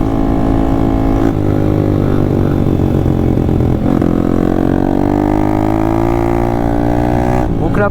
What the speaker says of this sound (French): je laisse un peu chauffer le moteur, même s'il est déjà très chaud